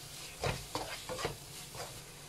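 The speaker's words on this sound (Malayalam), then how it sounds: "ഇതൊന്ന് ഇളക്കി കൊടുക്കുക." Store-bought biryani masala being stirred in a pan for fried chicken dum biryani: a few soft, irregular scraping strokes over a faint, low sizzle, heard close and quiet with no talk.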